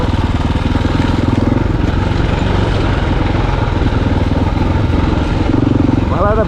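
A motorcycle rides an off-road mountain trail in Nepal, its engine a loud, steady close drone with rough rattling under it, while a rider talks over it throughout.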